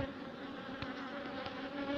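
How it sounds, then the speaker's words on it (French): A close, steady hum of honeybees building wax frames in a hive, a dense, even buzz that continues throughout with no voices. "C'était les petites abeilles en train de construire"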